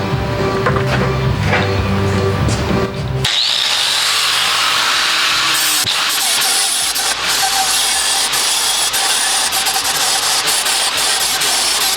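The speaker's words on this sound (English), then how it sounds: "I'm going to grind them down, get things nice and smooth so like they're one piece." Welds on a Mitsubishi Montero ADD bumper kit are ground down with a power grinder, giving a loud, continuous, harsh grinding whine close by that holds for several seconds without pause.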